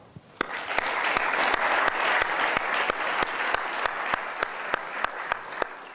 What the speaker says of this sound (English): Can I have a round of applause for them?